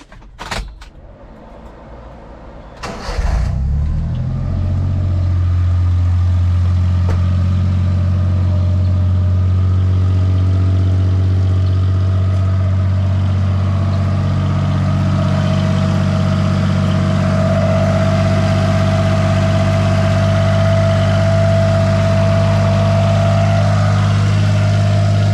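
A Honda Acty's small engine cranks briefly, fires up and settles into a steady, close idle just after a timing belt replacement, with a constant low hum that runs unbroken for the rest of the clip.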